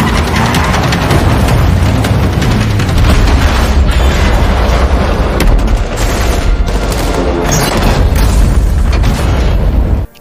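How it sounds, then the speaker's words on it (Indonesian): Gunfire rages in a Korean film scene about a North Korean soldier's escape: dense, continuous bursts of automatic fire and booming shots, very loud and unbroken for about ten seconds before cutting off abruptly. "ternyata Lee dan pasukannya telah datang dan menembaki mereka"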